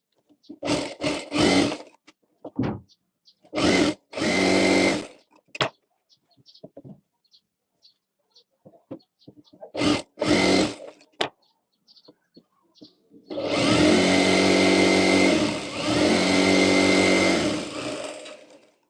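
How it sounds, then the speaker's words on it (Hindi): Sewing machine stitching a blouse, two long steady whirring runs near the end following bursts of close speech and short handling clicks, loud and nearby. "देखिए यहाँ पर सिलाई कर लेनी है और नीचे की तरफ कर लेनी है, दोनों तरफ सिलाई कर लेनी है हमें।"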